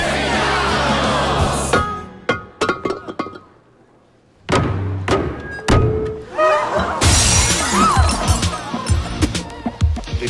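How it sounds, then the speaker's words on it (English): A vase is smashed hard at a wedding celebration in Rome, a sharp shattering crash followed by scattered thuds, with cheering voices and talk around it. "The maid of honor shatters a vase, and it symbolizes happiness for the bride and groom."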